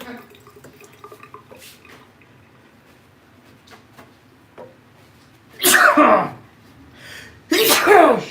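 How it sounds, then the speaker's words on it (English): Two loud, close human sneezes at a barber's live stream, the first bursting in mid-clip and the second following about two seconds later, over a quiet room with faint clicks and brief murmurs beforehand. "Good, because I got to sneeze."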